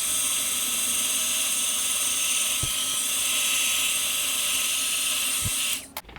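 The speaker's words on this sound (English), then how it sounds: "I'm going to go ahead and hit this with the heat just for a minute" A crafting heat tool blowing steadily over a Distress Oxide ink card background, a continuous close whirring hiss with two faint taps, cutting off at the end.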